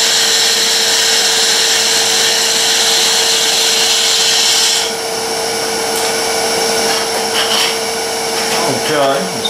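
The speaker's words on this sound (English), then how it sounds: "Using a round nose scraper on this one." A round nose scraper works a spinning walking cane blank on a wood lathe, giving a steady close whir and hiss with a few scraping surges and no talk over it.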